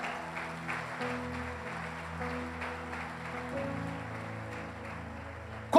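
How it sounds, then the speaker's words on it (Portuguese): A church congregation applauds softly beneath sustained organ or keyboard chords, the scattered clapping faint and somewhat distant, ending with a brief louder burst. "Se é para Jesus, você pode aplaudir mais alto."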